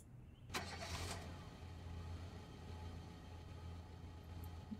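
A car engine cranks and catches in the Project Zomboid video game, a short burst of starter noise followed by a steady low idle hum that continues quietly with no talking.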